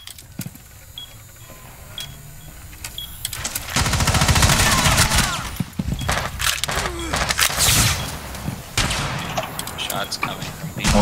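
Gunfire in the tactical shooter Rainbow Six Siege, with rapid bursts of shots and sharp cracks, loud and close, starting a few seconds in and continuing in clusters while a voice talks.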